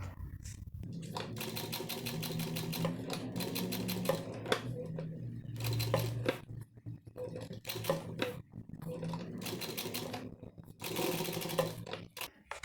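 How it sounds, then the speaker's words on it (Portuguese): Sewing machine stitching piping onto clear plastic, with close rapid mechanical clatter in bursts that stop and restart as the fabric is guided slowly around a curve. "começo a costurar e vou aplicando o vivo devagar"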